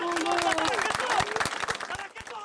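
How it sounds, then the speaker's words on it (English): Crowd applause at a journalist's funeral, scattered clapping mixed with voices and murmuring, moderately close and fading toward the end. "and a spontaneous moment of applause."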